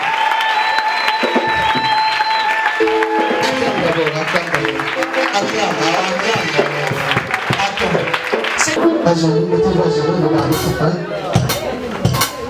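A church congregation at an anniversary celebration claps and cheers, with sustained applause and crowd noise filling the space while a voice speaks over it and music tones sound underneath.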